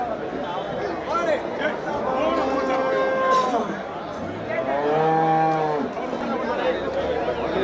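Native cattle at the Melapalayam cattle market give two long, loud moos close by, one after the other, over a steady background of crowd chatter and people talking.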